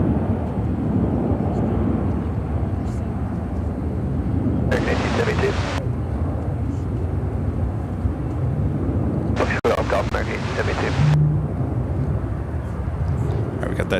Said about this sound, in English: we got that Dreamliner now rolling down at 28 right